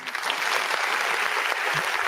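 A football stadium crowd at an Inter de Limeira versus Ponte Preta match claps steadily and loudly throughout, a sustained wash of applause with no break.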